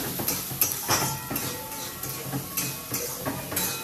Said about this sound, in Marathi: तर पहिल्यांदा तेल गरम झालं की आपण कांदा भाजायसाठी लावतोय